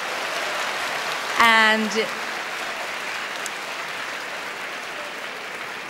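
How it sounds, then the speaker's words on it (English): Steady applause from a large Eurovision Song Contest 1990 audience during the voting, a continuous even wash of clapping under a presenter's voice that speaks briefly over it. "we have to wait for the applause to stop"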